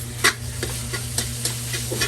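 Ground pork sizzles as it is sautéed for pancit palabok, a steady close frying hiss broken by several soft scrapes and stirs of a utensil in the pan.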